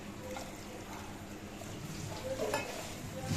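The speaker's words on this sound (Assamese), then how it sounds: "আলুখিনি চিটি মাৰি ল'ম" Potatoes sizzle and are stirred in a cooker while a fish curry is made, a faint steady frying hiss with soft scraping of the spoon.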